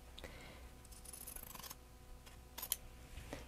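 Quilt fabric strip being cut with scissors, a few quiet close snips with a sharper pair near the end, over faint room noise.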